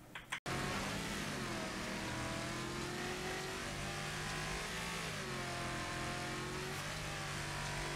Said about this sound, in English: Now I'm going to short shift to see if I can get a bit ahead of Sub-Zero for the straight